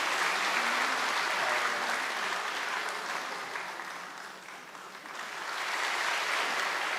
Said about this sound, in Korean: 우리 박수로 축복합니다